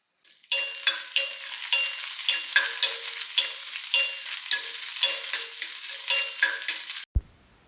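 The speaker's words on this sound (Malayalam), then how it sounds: "ഇനിയിപ്പോൾ നമ്മൾ അതിലേക്ക് നെയ്യിൽ വറവിടുകയാണ്." Coconut pieces and raisins fry in hot ghee for a mung dal payasam, a bright crackling sizzle with rhythmic spoon scrapes against the pan roughly every half second, close and loud, ending abruptly with a thump.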